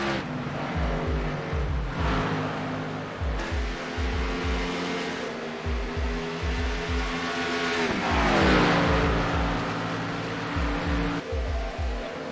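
Race cars on a track, engines roaring and revving as they pass again and again in a rhythmic series, heard from trackside at moderate distance with no talk over them.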